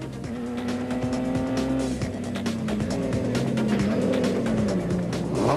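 Factory Donaldson Nissan Navara rally trucks at the Adenco 400 start, engines revving loudly and continuously near by with rising and falling pitch and a brief tyre squeal, no talk.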